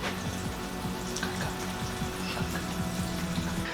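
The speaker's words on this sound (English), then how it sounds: "I'm filling my water right here." Water runs steadily from a tap with a continuous hissing rush, and a low rhythmic pumping or clicking pulses underneath.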